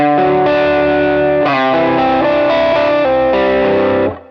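An electric guitar played through an overdrive pedal with the mids boosted, a few sustained distorted chords changing in steps, loud and up front, ringing out and then cut off.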